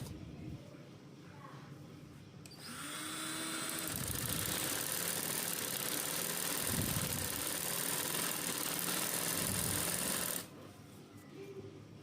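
A sewing machine stitching along the edge of a shalwar runs at a steady, loud whir for about eight seconds, then stops abruptly, with quieter handling before and after.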